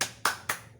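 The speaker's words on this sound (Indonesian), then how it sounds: "kita tepuk semangat lagi biar semuanya semangat" Rhythmic group cheer clapping by a room of participants in a training session, three sharp, loud unison claps in even succession, close and clear with no talking.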